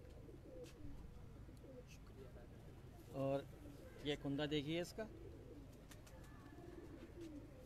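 Domestic pigeons on a rooftop in Karachi give several soft, bubbling coos in short bursts, faint against a quiet background, while someone speaks nearby.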